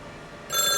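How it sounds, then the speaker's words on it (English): A telephone on a home lab phone system starts ringing partway through, a bright electronic ring that is loud and close after a quiet start. "it can already call this other phone."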